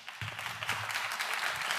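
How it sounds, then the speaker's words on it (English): A conference audience applauds Joanna Drake, steady close clapping filling the whole moment without talk. "Maybe we can applaud Joanna Drake."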